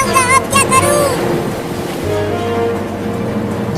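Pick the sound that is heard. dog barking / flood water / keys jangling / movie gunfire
flood water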